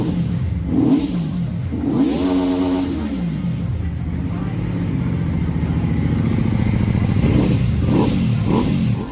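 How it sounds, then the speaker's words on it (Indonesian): A V4 500 cc cruiser motorcycle engine revs repeatedly, rising and falling in pitch with a throaty mid-range growl, fairly close and continuous throughout. "Motor ini menonjol dengan mesin V4 berkapasitas 500 cc"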